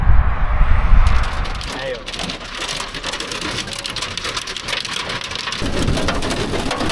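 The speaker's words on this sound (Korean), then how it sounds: "아, 이번 여행 마지막 폭풍이구만." Heavy storm rain pours hard and close during a tornado chase in Colorado, with a deep rumble of thunder at the start, steady drumming on surfaces throughout and a voice briefly under the downpour.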